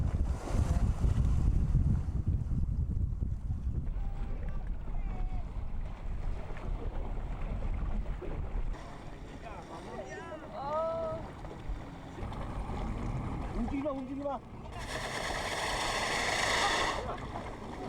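A boat sits on the water beside a gray whale in a shallow lagoon, with steady wind buffeting the microphone, water sloshing against the hull and a rising engine hum near the end, the whale staying silent.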